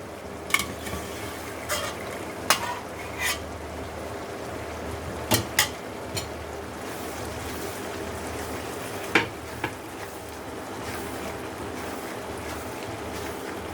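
Chickpeas fry quietly in a pan, with a soft steady sizzle and occasional sharp clinks and scrapes of a spoon stirring against the metal.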